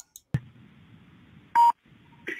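A telephone dials out to call an attorney: a couple of clicks, a single loud touch-tone beep and another short tone over a faint line hum, heard alone.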